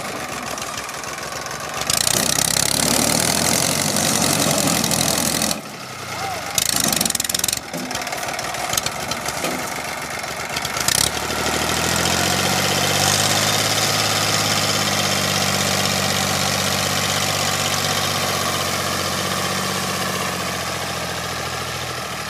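A tractor engine idling during sand digging at a dry riverbed, a loud continuous mechanical chug with knocking vibration, interrupted by brief thumps and gaps early on, then settling into a steady drone.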